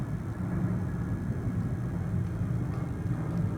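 An airplane flies overhead above wet outdoor woodland, heard as a steady, distant low rumble that holds at an even loudness throughout, with no voices over it.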